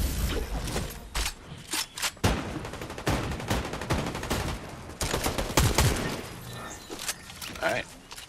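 Sniper rifle fire in Fortnite, several sharp, separate shots cracking out among other game noise, with voices talking over the action.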